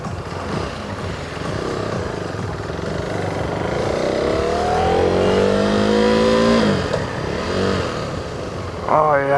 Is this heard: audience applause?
no